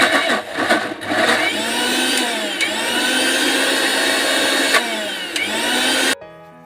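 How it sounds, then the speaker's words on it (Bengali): A kitchen mixer grinder whirs loudly as it blends boiled banana flower, running in a few steady bursts with brief pauses between them before it cuts off near the end. "এগুলোকে একটি মিক্সার মগের মধ্যে নিয়ে নিব। নিয়ে হালকা করে 2-1 বার মতো করে 1 মিনিটের জন্য মিক্সারে ঘুরিয়ে নেব।"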